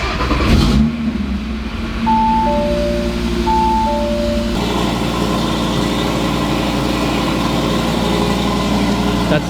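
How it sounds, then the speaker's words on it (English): A car engine turns over and catches in a short starter burst, then settles into a steady, low idle in comfort mode with the exhaust valves closed. A few electronic chimes sound early on, and no voices are heard. "the cold start just finished, so comfort mode, just idling. That's how it sounds."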